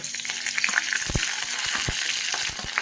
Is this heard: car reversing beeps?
no